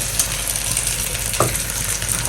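A beaten egg fries in a hot pan, giving off a steady, close hiss of sizzling oil with one brief scrape partway through.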